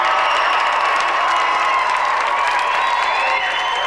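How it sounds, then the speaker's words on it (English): A studio audience at a GamesMaster game show applauds and cheers for a departing challenger: dense, steady clapping with scattered whoops that holds loud and even throughout, with no talk over it. "let's have a final round of applause for our gallant challenger"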